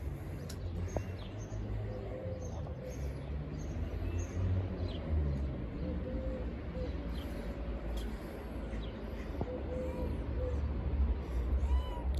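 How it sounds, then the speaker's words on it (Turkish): A garden cat meows a few times at moderate distance amid outdoor background noise, with birds chirping faintly around it. "Bahçemizdeki kedi."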